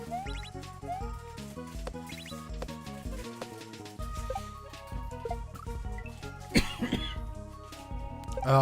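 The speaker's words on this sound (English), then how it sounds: "Ah, this cough." A streamer gives a few hoarse coughs and throat clears beneath steady game music, the coughs short and close, clustered near the end of the stretch.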